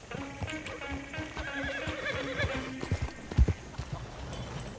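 Hooves of horses drawing a coach clip-clop in Red Dead Redemption 2, an uneven trotting rhythm close by, with a snort or whinny and light rattling underneath.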